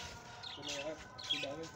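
Pigeons coo in soft, rolling bursts, two calls about a second apart, with chirpy bird sounds and nearby voices mixed in.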